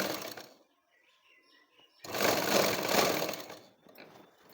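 A sewing machine stitching a blouse runs in two bursts, a short run at the start and a longer, louder stretch after a pause, with a brief tail at the end.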